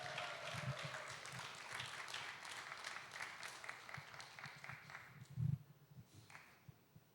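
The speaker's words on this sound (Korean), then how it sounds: "한정순 권사님 박수로 맞이해 주시기 바랍니다" Church congregation applauding to welcome a deaconess up to give her testimony at an anniversary talk concert, a steady wash of clapping throughout with a louder burst near the end.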